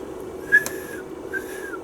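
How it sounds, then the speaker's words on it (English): Person whistling into a microphone for an oscilloscope test, two thin wavering whistles about a second apart, quiet and close over a faint steady hum. "I do my same whistle test as I did before"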